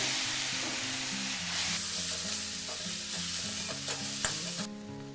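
Grated boiled potato being stirred into softened vegetables frying in a pan for veg cutlets, a steady close sizzle with scraping stir strokes and a sharp knock near the end, no talking.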